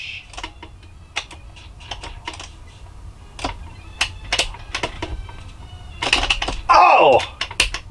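Arcade stick buttons on a Super Nintendo controller are tapped during Super Ghouls and Ghosts, giving close, irregular plastic clicks, with denser clustered bursts near the end alongside game sound effects.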